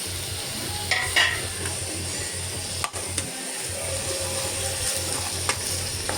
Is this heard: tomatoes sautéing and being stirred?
yes